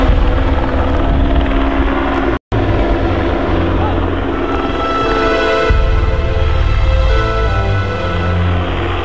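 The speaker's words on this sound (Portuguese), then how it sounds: "O helicóptero sobrevoa procurando o suspeito ainda foragido." Police helicopter flying low overhead during a manhunt, a loud continuous rotor thrum with steady beating that fills the whole span, broken by a brief dropout, with voices faintly under it.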